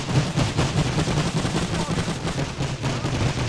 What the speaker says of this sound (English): The devastating effect of the machine gun